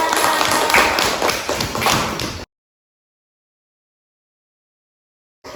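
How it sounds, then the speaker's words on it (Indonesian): Students applaud together in a classroom, a dense, steady patter of hand claps lasting about two seconds before stopping abruptly, followed by silence. "Tepuk tangan untuk kita semua."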